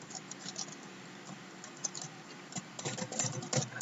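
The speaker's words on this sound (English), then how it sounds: "I will just type print" Keys tapping irregularly on a computer keyboard while typing code, faint and close, with clusters of quick clicks growing busier toward the end; no one speaks.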